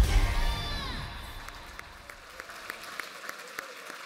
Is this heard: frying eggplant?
no